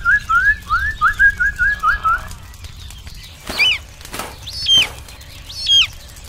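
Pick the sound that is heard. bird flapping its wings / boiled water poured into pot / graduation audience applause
bird flapping its wings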